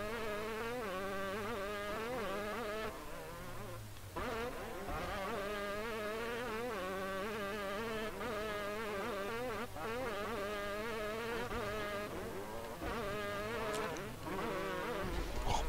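Buzzing motorcycle engine from the PlayStation racing game Moto Racer World Tour, a continuous whiny drone that rises and falls in pitch with brief dips between revs, steady and fairly quiet with no voices.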